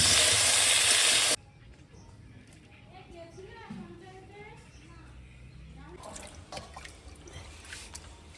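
Tap water gushes loudly for about a second while raw chicken leg pieces and wings are rinsed in a home kitchen, then cuts off, leaving faint drips and kitchen clatter under a person talking.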